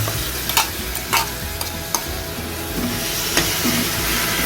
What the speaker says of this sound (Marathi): कैरी चांगली परतलेली आहे